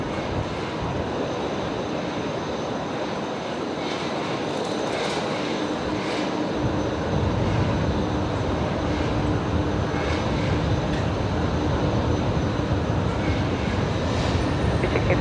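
A Singapore Airlines jet taxiing at Brisbane Airport, its engines giving a continuous broadband rumble and whine that swells slightly louder partway through, steady and fairly close with no talk.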